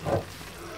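Chopped onions sizzle in oil in a pan while starting a quince and meat tagine, a short close burst of frying hiss that settles into a steady low crackle.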